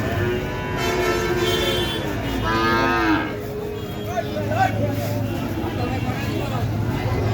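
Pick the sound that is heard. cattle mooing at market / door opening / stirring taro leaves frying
cattle mooing at market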